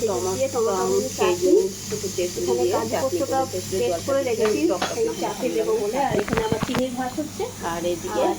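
Garlic and onion frying in a pan send up a steady hiss that runs beneath almost continuous nearby talking.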